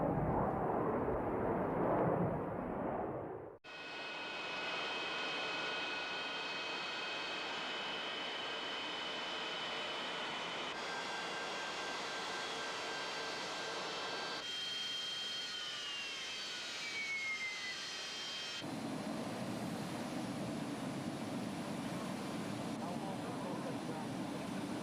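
A Boeing 737 flies a test flight path, its jet engines giving a continuous, heavy roar that shifts abruptly in tone and intensity several times across the stretch.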